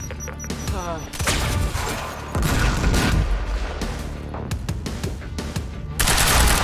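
Intense combat in the shooter Quantum Break on hard mode as a grenade is thrown: heavy bursts of gunfire and booming impacts fill the scene, with shouted voices mixed in among the loud, continuous battle noise.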